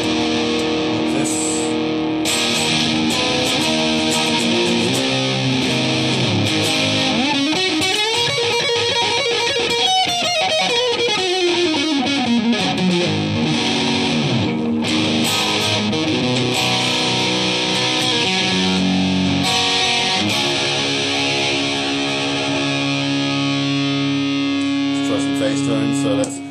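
Electric guitar played through a wide-range humbucker pickup and an OD2 overdrive, with sustained distorted chords, sliding and bending lines, and a steady, loud tone throughout.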